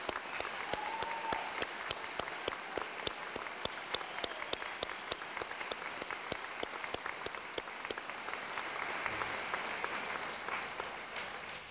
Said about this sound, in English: would you please join me for one more round of applause for our class of